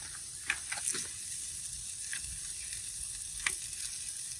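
Small tacos frying in oil on a hot Blackstone griddle: a steady close sizzle and crackle throughout, with a few sharp pops and light scraping taps.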